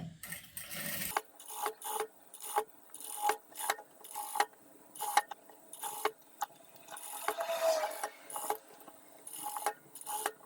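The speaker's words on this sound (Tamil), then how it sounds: "இப்படி ஒரு தையல் போட்டுங்க." A sewing machine stitching a blouse neck design, heard in short mechanical bursts of clicking and whirring, close by, separated by brief quiet gaps as the fabric is repositioned.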